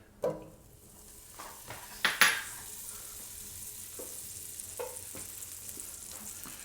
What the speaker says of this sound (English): Drop your butter in.